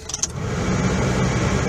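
A van's engine, previously misfiring on cylinder two from a blown head gasket, runs at a steady idle after a brief jangle of keys, a close and even low hum.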